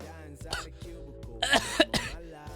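A few forced, staged coughs and throat-clearing bursts from a nearby voice, loudest in the middle, with breathy sounds around them.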